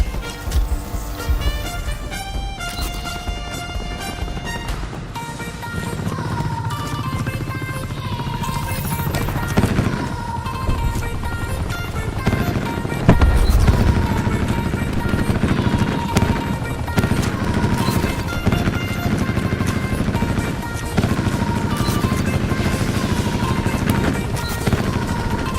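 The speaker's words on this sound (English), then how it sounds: "Establishing attack chopper close air support." An attack chopper and gunfire in the video game Black Ops 4, with dense bursts of automatic fire and booms over a steady rotor drone and game music, loud and continuous.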